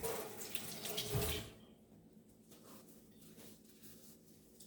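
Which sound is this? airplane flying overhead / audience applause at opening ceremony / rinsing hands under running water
rinsing hands under running water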